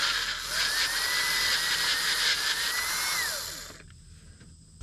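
A power drill whines steadily close by, drilling a hole for a helicoil insert in a Deutz diesel turbocharger or exhaust part from a Case 170B excavator; its pitch sags under load as it cuts, then winds down and stops, leaving quiet.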